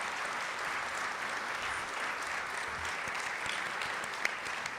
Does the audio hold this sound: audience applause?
yes